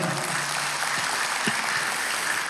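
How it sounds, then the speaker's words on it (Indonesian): Continuous clapping from a gathered church audience, steady and moderately loud for the whole stretch. "Tepuk tangan yang meriah"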